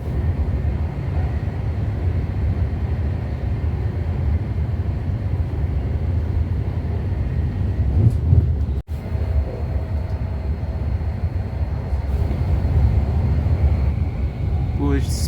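A train speeds along the St Albans Abbey line, its steady low rumble and rolling rail noise continuous throughout, with a brief clunk partway through.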